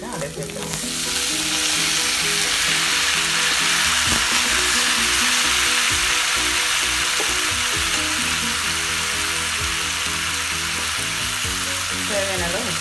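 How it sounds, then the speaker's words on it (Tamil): Four cut apple tomatoes saute with sesame seeds in oil for a tomato mint chutney. The sizzle rises within the first second into a loud, continuous close hiss, with occasional stirring scrapes, and no voices. "தக்காளி நல்லா வதங்கட்டும்."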